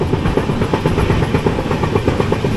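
The Shirdi Mysuru Weekly Express rolls along the rails with loud, close rhythmic clickety-clack from the wheels and a constant rumble, heard from on board.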